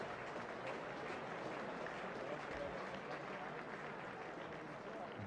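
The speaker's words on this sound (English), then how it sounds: "Change for Keith Fletcher to get a round of applause from this Headingley crowd." A Headingley cricket crowd at a 1975 Ashes Test applauds, a dense, steady wash of distant clapping that holds at an even level for the full five seconds without a clear break.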